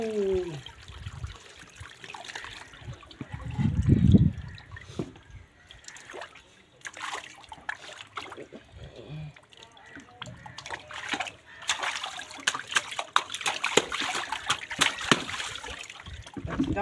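A small water dam breaks, letting water splash and trickle in bursts with one louder gush early on, while people talk over it.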